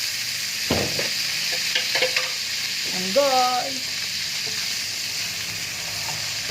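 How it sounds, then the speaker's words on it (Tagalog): Chicken pieces frying in a pan, a steady close hiss of sizzling oil throughout, with a brief stir and a short spoken word partway through. "Prito natin para malasa."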